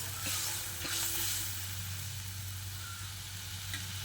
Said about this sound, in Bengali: মিক্সি ধোয়া জলটা দিয়ে মশলার সঙ্গে আবারও বেশ খানিকক্ষণ সময় ধরে কষিয়ে নিতে হবে।